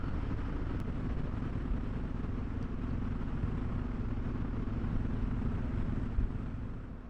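A motorcycle engine drones steadily at cruising speed on a nearly deserted highway, with constant wind rush and road noise filling the sound throughout.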